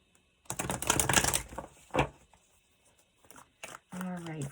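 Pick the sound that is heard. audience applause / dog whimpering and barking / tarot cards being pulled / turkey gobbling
tarot cards being pulled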